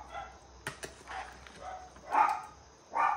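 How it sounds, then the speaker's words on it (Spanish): Dogs barking in the distance during home cooking of tilapia ceviche, a few faint, scattered barks over quiet kitchen background. "Ahí sigue los perros."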